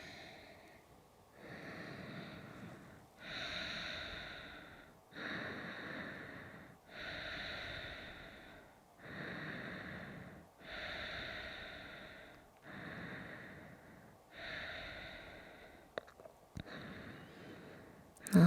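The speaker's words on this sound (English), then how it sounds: "Let's take these next few moments to find the breath and slow that breath down." Slow, deep breathing during a yoga session, with about nine long, evenly spaced breath cycles that rise and fall softly and close by, and no talking.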